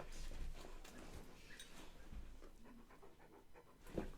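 A dog pants and breathes quickly close by, soft rhythmic huffs at low volume with a faint thump near the end.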